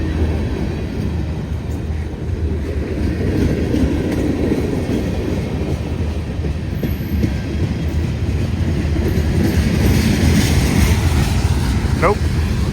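A train rolling past at low speed as it slows to take a siding, a continuous loud rumble and clatter of rail wagons close by, with a brief squeal near the end.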